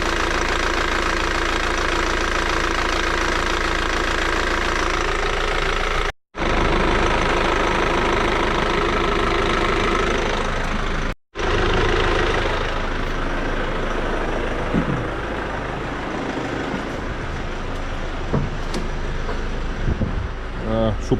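A Hyundai Santa Fe engine runs with the air conditioning on and a new AC compressor clutch fitted: a loud, steady, close idle drone with a knocking texture, cut by two brief dropouts, with a voice faintly under it at times.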